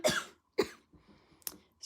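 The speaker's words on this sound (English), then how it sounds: "I got a little bit of a cough" Several short, dry coughs from a person with a mild fall cold, close and quiet, spaced out with brief pauses between them.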